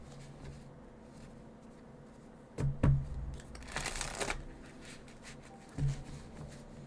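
Tarot cards handled and shuffled at a table, with quiet rustling broken by a few sharp riffling bursts and slaps near the microphone, set against a faint low background hum.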